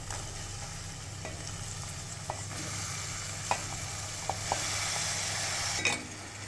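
Chopped tomatoes frying with fenugreek leaves for a dhaba-style tomato curry, a steady sizzle punctuated by a few soft stirring clicks and scrapes against the pan.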